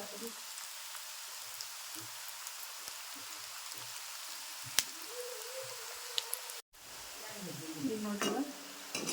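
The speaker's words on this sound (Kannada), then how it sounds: "ಎಣ್ಣೆಗೆ ಬಿಡ್ತೀನಿ ರೀ" Semolina snack pieces dropped one by one into hot oil, giving a continuous bubbling sizzle with crackles. It cuts out briefly, then returns with stronger spattering and a short tonal squeal.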